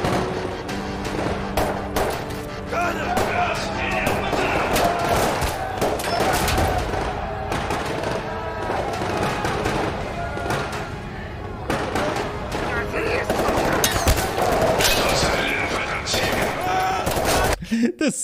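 Gunfire in Escape from Tarkov, with rapid automatic bursts and single shots crackling almost continuously over loud game audio while a voice speaks at times.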